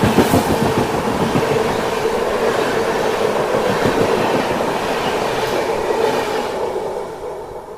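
Goa Express passenger train running on rails, a steady loud rumble with rhythmic wheel clatter throughout, fading slightly at the end.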